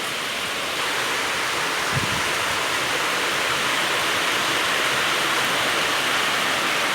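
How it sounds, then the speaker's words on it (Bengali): A storm's gusty wind roars as a steady, loud broadband rush, with heavy rain-like hiss throughout and one brief low thump near the start. "দমকা হাওয়া"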